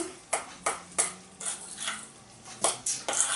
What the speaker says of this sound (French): il n'y a plus qu'à mélanger. Alors vous allez avoir une pâte